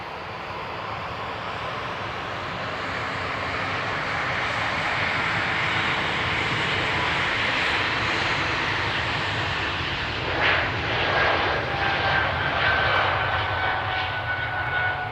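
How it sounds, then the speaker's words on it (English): Air Canada airliner engines on an early morning departure, a broad steady roar that swells louder and nearer toward the end, heard alone without talk. "You can already hear Air Canada in the background"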